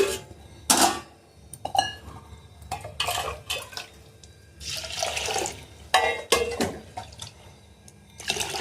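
Water poured in repeated splashing bursts into a vessel of washed ration rice in a home kitchen, with clinks of dishes and sloshing between pours, near and fairly loud, without talk.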